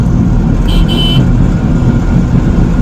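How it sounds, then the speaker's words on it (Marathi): A truck on a road gives a loud, close, continuous engine roar and road rumble throughout, with a brief high tone sounding early on. "लय खतरनाक गाडी चालते आता एम एच वीस वाली चालली बघा"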